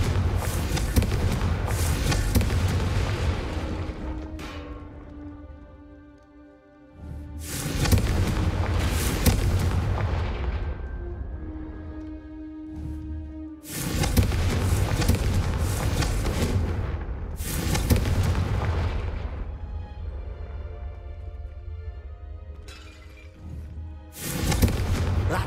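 Hogwarts Legacy Confringo fire spell cast repeatedly, loud booming blasts in several bursts with crackling decay between them, no talking over the impacts.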